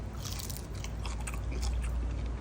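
Biting and chewing into hot, crunchy fried chicken: close crackling crunches in an irregular rhythm over a low background rumble, without talk.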